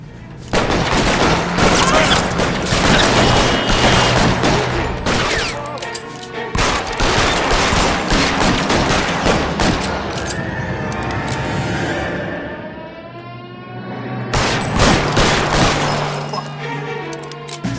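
Sustained shootout gunfire in the L.A. Noire video game, with dense rapid volleys of shots and booms, loud and close, briefly thinning around twelve seconds before another burst.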